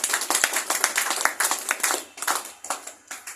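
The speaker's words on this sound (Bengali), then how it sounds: "জোরে একটা হাততালি যায়" A room full of listeners at a health talk on diabetes claps loudly together, with distinct, sharp hand claps in quick bursts that fade toward the end.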